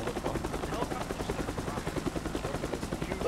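A military helicopter in the video game Squad whirs with a dense, steady rotor chop, overlaid by bursts of gunfire and faint voice chatter throughout.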